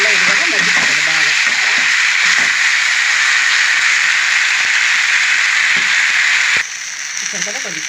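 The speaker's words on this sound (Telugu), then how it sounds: "అందుకోసం ఇలా ఫ్రై చేసుకున్నాను. ఆయిల్లో ఇది కూడా మగ్గిపోతుంది బాగా." Food frying in oil makes a loud, continuous hissing sizzle that holds for several seconds, with a voice talking briefly at the start and again near the end.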